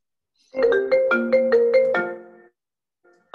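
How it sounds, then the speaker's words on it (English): Mobile phone ringtone going off during an online meeting, a short clear melodic run of bright electronic tones lasting about two seconds, then silence and the start of a second ring at the end. "That was my phone going off."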